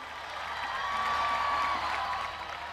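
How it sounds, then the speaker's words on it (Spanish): Applause for the athletes at the Asunción 2022 closing ceremony, a moderate crowd clapping steadily that swells and then eases off, with a faint whistle cutting through partway. "Un aplauso grande del Cambaco a todo el mundo."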